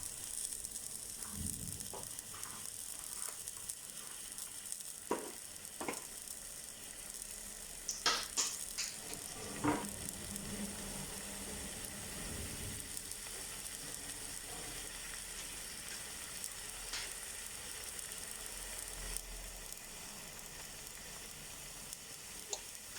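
Beef browning in a pot for German goulash, a continuous sizzle with scattered crackles and clinks of stirring, fairly quiet, no one speaking.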